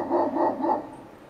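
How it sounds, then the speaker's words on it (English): Great Pyrenees dogs barking on a morning around 8:30, three rapid deep barks close together, fairly loud and near, then fading into quieter background. "You can see that these Pyrenees dogs are very enthusiastically barking away."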